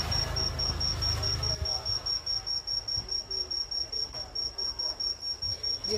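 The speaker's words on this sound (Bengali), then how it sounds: "তো তোমরা হয়তো শুনতে পারছো খুব সুন্দর ঝিঝি ঝিঝি করে একটা পোকা ডাকছে।" Crickets trill steadily at night in a leafy balcony garden in north Kolkata after rain, a continuous high-pitched chirring that pulses rhythmically throughout, fairly close and clear with no talk over it.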